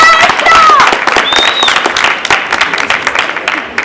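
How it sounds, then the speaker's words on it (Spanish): A crowd at a storytelling event at a book fair gives loud, close, sustained applause with dense overlapping claps, and a few whistles rise above it early on. "Un gran aplauso, por favor."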